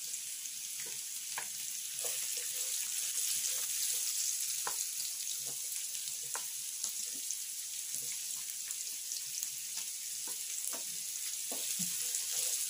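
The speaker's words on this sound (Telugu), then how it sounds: "ఇవన్నీ బాగా ఫ్రై చేసుకోవాలి." Half-boiled thammakaya (a bean vegetable) fries in a pan with a steady, dense sizzle throughout, broken by frequent soft crackles and stirring scrapes, fairly close and continuous with no talking.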